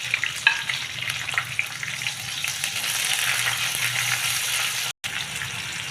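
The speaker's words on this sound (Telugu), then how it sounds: "ఉల్లిపాయ వేగిందండి, కారం వేస్తున్నా. కారం కూడా కొంచెం వేగాలి" Spices and ginger garlic paste frying in a pan, a steady loud sizzle with crackling pops throughout, broken by one brief dropout near the end.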